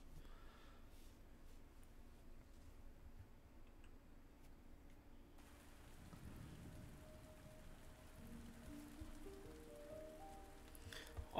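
Steady rain falls in a video game, a soft, faint hiss of drops with low rumbling underneath, and a rising musical phrase enters toward the end.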